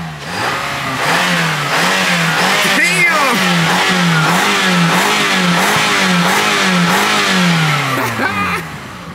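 A Procharger-supercharged Mercedes-AMG engine with a single exhaust pipe revs loudly and repeatedly up close, its pitch rising and falling in a rapid pulsing pattern, with people talking and reacting over it.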